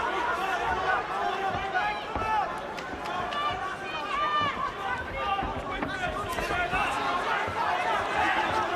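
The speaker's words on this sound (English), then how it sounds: "But the crowd are loving it" A crowd at a Liverpool derby boxing match for the 168 lb British title between Tony Quigley and Paul Smith, a steady dense roar of chatter and cheering that runs throughout with no clear breaks.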